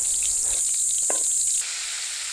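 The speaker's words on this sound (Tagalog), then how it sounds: "magigisa na tayo ng bawang at sibuyas" Garlic and onion sauté in a pan of oil left from frying milkfish, a close, steady sizzle that crackles briefly before settling into a softer hiss.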